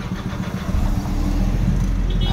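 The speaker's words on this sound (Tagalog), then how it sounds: "Engine start." A Nissan Navara diesel with a fuel pump fault code P0089 cranks and catches, its low engine rumble swelling after a brief start and settling into a steady, rough idle close by.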